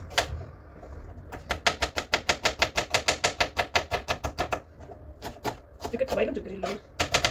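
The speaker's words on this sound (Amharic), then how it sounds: "እነዚህ ሽንኩርታችንን እንከትፋለን።" Onions are sliced with a knife on a board, giving a fast, steady run of sharp close chops for several seconds, then a pause and a few more chops near the end, with a voice speaking in between.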